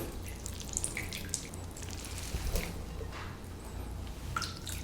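Water squeezed from sliced onions for an Italian onion flatbread drips and splashes faintly in a kitchen, with soft, irregular wet patters over quiet background.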